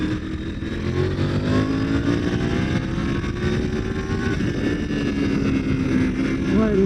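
A 2022 Triumph Tiger 900 GT Pro motorcycle engine pulls steadily under riding, its rising whine climbing through the revs with wind noise, loud and close, while a voice talks over it.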